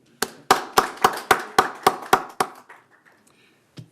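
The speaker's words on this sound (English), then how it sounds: "So I'd like to just give him a hand clap if you would." About ten sharp hand claps in a quick, even rhythm from a small meeting audience, fairly close and loud, then fading into a few scattered claps and quiet, with no talk.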